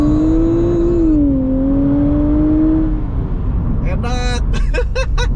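A new Nissan X-Trail's engine revs up with a rising, sustained drone as it accelerates hard on a test track, followed by someone talking excitedly over the road noise.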